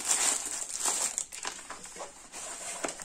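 A poor-quality 40 x 50 painting canvas with fraying edges is unwrapped from its protective wrapping, giving steady crinkling and crumpling of plastic close by, with a few sharper rustles and no talk.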